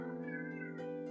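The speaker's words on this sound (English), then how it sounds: "Just a cat being a cat." A house cat meows near the microphone in one sustained, tonal cry that rises and wavers, with a fresh burst near the end; no talking is heard.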